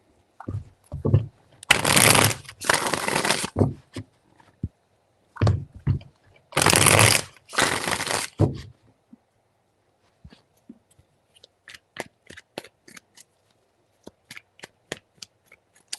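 Tarot cards being shuffled in two long riffling bursts, followed by a scatter of brief card taps and flicks, close and fairly loud.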